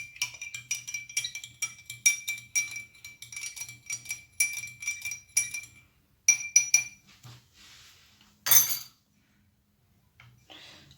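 A spoon stirs Nescafé into a glass of hot water, making quick bright clinks against the glass in steady bursts, then a pause and a few scattered taps and clinks near the end. No one speaks.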